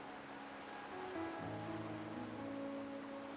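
Rain falling in the video game Wuthering Waves, a steady soft hiss of raindrops that runs throughout, with faint sustained tones layered over it and no talking.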